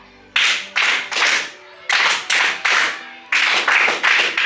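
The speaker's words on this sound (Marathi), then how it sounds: "तुमच्यासाठी एकदा तीन टाळ्या" A classroom of children clapping in three rhythmic bursts of three sharp claps each, close and loud with short pauses between groups, no talking.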